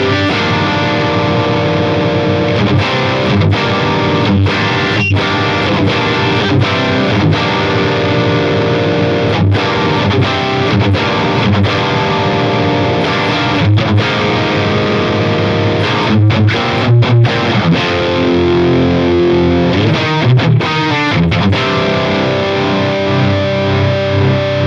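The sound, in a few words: electric guitar through amp with mid boost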